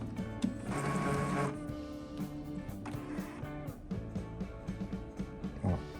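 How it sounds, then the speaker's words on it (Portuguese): An Epson TX-series inkjet printer powers on and whirs through its mechanical startup, with clicking and rattling print-head motor noise. The sound is moderately quiet and has no talk over it. "vamos ligar a impressora. Ela vai ligar aqui com a mensagem de tinteiros não reconhecidos."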